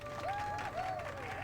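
A crowd cheers and applauds after a swoop race in Knights of the Old Republic, steady game-audio clapping and crowd noise with a whistling tone gliding over it, no talk.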